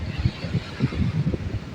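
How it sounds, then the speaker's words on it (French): Low rumbling wind gusts buffet the microphone in uneven puffs by the sea near Cabo de Palos and La Manga, a muffled blustery noise with no clear voice. "Je sais pas si on m'entend avec le vent"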